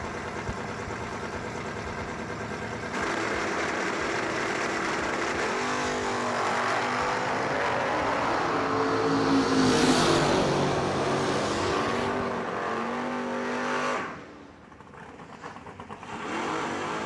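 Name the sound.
drag race cars launching down the strip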